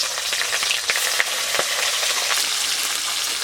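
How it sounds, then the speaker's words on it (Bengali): Fish fry in mustard oil in a wok with a brisk, steady sizzle and spatter, joined by light crackles and a few stirring taps. No voices are heard. "কড়াইতে তেল দিয়ে দিচ্ছি, সর্ষে তেল। মাছগুলো ভেজে নেব।"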